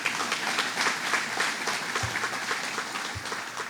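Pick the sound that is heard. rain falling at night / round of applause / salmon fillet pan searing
round of applause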